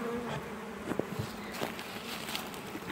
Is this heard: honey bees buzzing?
yes